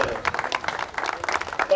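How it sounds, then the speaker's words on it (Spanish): Applause at a prize-giving for Angus cattle at a livestock show, as second and third place are honored: a burst of many hands clapping, fairly close, with voices mixed in. "un fuerte aplauso para la cabaña Don Alfonso y la firmeza que terminaron segundo y tercero"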